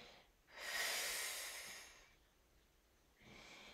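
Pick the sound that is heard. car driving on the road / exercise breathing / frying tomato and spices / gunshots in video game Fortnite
exercise breathing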